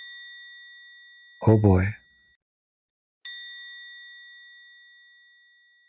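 A bell sounds twice with clear metallic dings, each ringing out in a long, slowly fading tone. A brief spoken exclamation falls between the two strikes.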